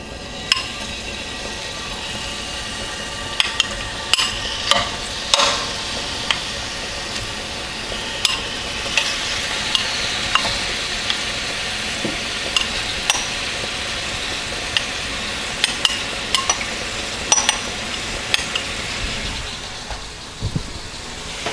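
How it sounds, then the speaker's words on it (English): Shrimp sauté in a hot pan with a steady low sizzle, punctuated by frequent soft clicks and taps of stirring or utensils against the pan. "We're just going to saute these shrimp just until they get pink"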